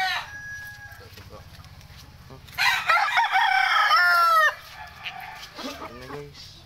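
A chicken clucks and squawks loudly up close for a couple of seconds, with quieter clucks and a low hum before and after.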